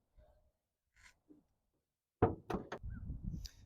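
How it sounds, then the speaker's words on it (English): A 2023 Tesla Model X door is pushed shut: a few faint clicks and taps in near silence, then a loud close thud followed by a short run of clunks and a lingering mechanical whir. "you can shut these doors by pushing"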